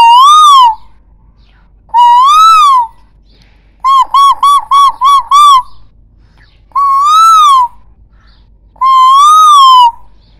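A human voice imitates a koel's call, giving six loud rising whistled notes, one a rapid stuttering burst, each separated by a short silence.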